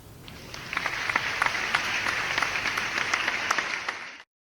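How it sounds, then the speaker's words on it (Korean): Applause ripples through the crowd at a Korean labour union delegates' assembly, a steady patter of many hands clapping for about four seconds before cutting off abruptly. "큰 박수 부탁드립니다."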